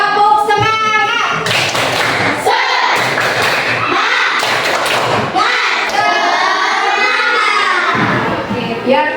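A school class doing 'tepuk semangat' rhythmic clapping, loud and close, with patterned bursts of claps and thumps mixed with children's chanting and shouting voices.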